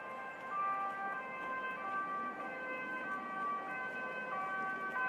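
An ambulance siren wails continuously with steady tones, moderately loud and somewhat distant, with faint road traffic underneath.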